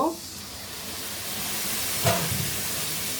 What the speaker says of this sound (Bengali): এখন একটু পানি দিব